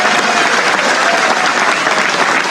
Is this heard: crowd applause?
yes